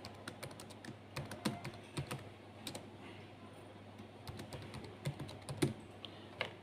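Typing an account name on a computer keyboard, with rapid irregular key clicks in close, crisp bursts and a few brief pauses between groups of keystrokes.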